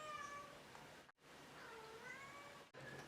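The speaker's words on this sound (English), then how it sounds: "There's my cat." A house cat meows repeatedly indoors, close and fairly clear, with short gaps between calls and no talking.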